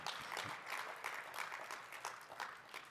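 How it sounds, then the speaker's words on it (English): Faint, fairly distant clapping from a conference plenary audience, a scattered, uneven patter of hands over a few seconds with no talk. "that's worth clapping for"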